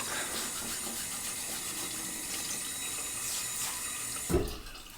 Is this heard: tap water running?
yes